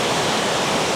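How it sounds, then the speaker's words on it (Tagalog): Strong rushing current at Maranong Falls, a dense, steady roar of water close by, continuous and broadband with no voices over it. "Ang lakas ng agos, oh."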